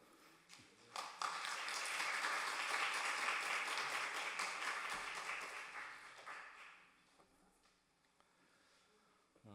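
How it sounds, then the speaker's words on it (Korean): A church congregation at a Sunday evening service applauds as a pastor comes to the pulpit, the clapping swelling in after a second, holding full and even, then fading away near the end. "임형진 목사님 나오실 때 큰 박수 부탁드리겠습니다"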